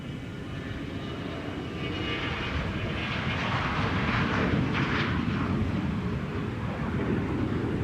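A Gulfstream jet at Minneapolis–St. Paul Airport roars steadily, a broad loud rush that swells slightly as it passes, heard from outside with no voices over it.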